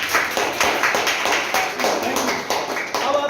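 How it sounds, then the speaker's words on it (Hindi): A classroom applauds the winner with a short burst of clapping, a quick run of close, uneven claps lasting a few seconds. "तालियां हो जाए एक बार"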